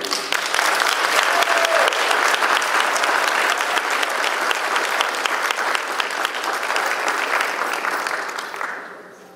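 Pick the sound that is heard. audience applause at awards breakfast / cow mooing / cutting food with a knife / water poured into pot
audience applause at awards breakfast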